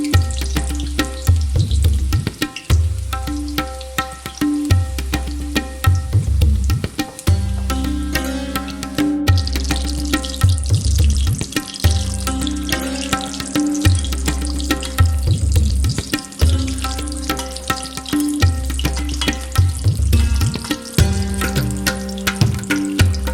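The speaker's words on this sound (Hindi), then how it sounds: "अभी फ्राई कर लेते हैं स्प्रिंग रोल को।" Spring rolls frying in hot oil give a steady, bubbling crackle that runs throughout, broken by repeated low knocks and clatters near the pan.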